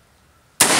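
A single sharp, loud rifle shot from a 1903 Springfield bursts in abruptly after near silence and rings out to the end, with no talking.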